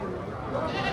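Makhi Cheena breeder goat at a livestock market gives a short, close bleat amid market chatter and talking voices.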